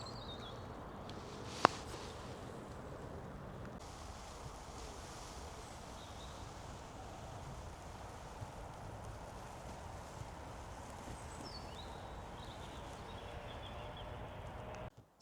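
Wind buffets a microphone outdoors on heathland near Holes Bay, a low, continuous rumble with a sharp knock early on and a few faint distant sounds, with no talking.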